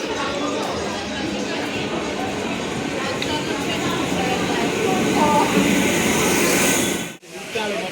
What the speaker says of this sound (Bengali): এই যে আসছে এটা হচ্ছে মেমারি হাওড়া লোকাল